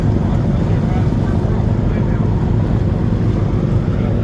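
A steady low droning rumble of boat engines running continuously on a grounded charter fishing boat, loud and close, with wind buffeting the microphone.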